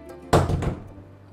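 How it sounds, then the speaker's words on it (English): A single dull, heavy thump from an underwater dynamite blast, used for fishing, arrives abruptly, with a short rumbling tail that fades back into a low, steady background hum. "The blast happened seconds ago"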